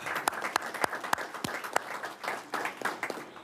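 A small group at a transportation planning board meeting claps for a departing secretary, the individual hand claps distinct and uneven, close by and moderately loud.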